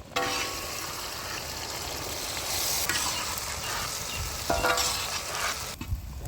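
Onions and green chillies with whole spices sizzling in hot oil in a village kitchen, a steady loud frying hiss broken by scraping stirs of a spoon against the pan, close up, no voices.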